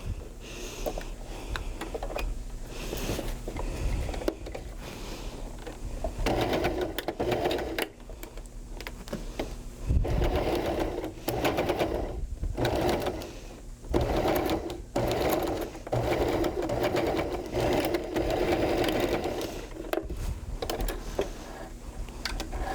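A sewing machine stitches a fabric bunny in a home craft workshop, its needle running in steady bursts with brief pauses and speed changes, fairly close and continuous.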